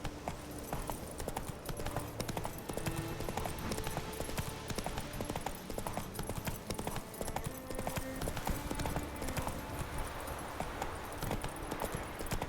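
A horse trots in The Witcher 3, its hooves clip-clopping in a steady quick rhythm under game music and ambience, with no talking.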